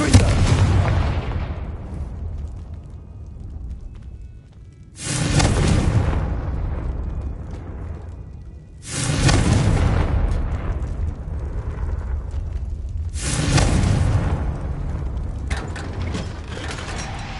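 Confringo spell explosions in the Hogwarts Legacy video game, four loud booming blasts each trailing off into a rumbling decay, spaced a few seconds apart.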